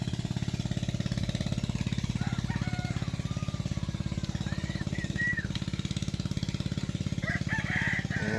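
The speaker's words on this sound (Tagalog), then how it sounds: "iingay ng manok pag madaling araw" A rooster crows in the distance over a loud, steady mechanical rattle that runs the whole time.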